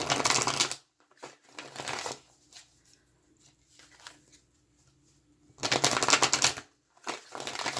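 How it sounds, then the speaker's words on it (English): A deck of playing cards shuffled against a person's leg, soft riffling bursts in separate rounds with quiet pauses between them and no talking. "I'm just shuffling it to start out with down here on my leg because it's quieter than it hitting against the table."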